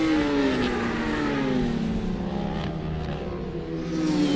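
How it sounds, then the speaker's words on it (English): A booming Ducati 859 race motorcycle tears past on a racing circuit, its loud engine note sweeping and shifting in pitch as it goes by, with no voices over it. "there goes Mick Pender through the shot on the booming 859 Ducati"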